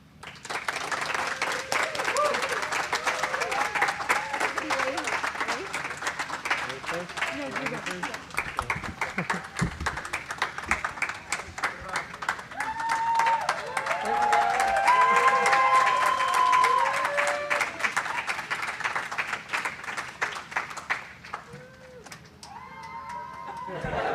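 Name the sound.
audience applause for crew entering habitat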